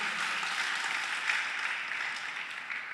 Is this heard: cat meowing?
no